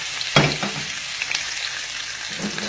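Crushed ingredients are added to very hot coconut oil for a dry-fried mutton dish, a sharp knock, then a continuous bright sizzle with a few light stirring scrapes.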